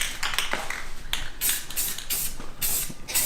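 A spray can lays a light coat of paint on Honda Prelude wheels. Short, sharp hissing bursts repeat in a quick, uneven rhythm, close to the microphone.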